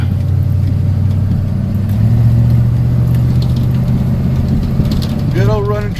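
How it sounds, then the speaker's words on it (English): A 1986 Chevy pickup truck with a broken fan shroud and a fan that rubs against it runs with a steady, loud, low engine drone close up, while someone talks over it. "good old running truck."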